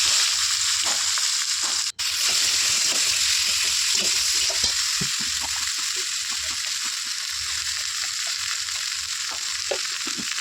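Potatoes sauté in a pan with a continuous close sizzle and frequent stirring scrapes and clinks, steady throughout with a brief dropout near the start, no voices.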